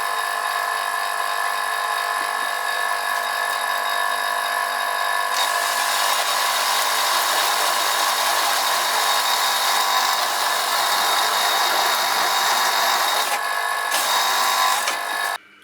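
A drill bores holes in aluminium sheet metal at 250 RPM, a steady whirring grind that turns harsher and louder partway through, continuing close up before cutting off abruptly at the end.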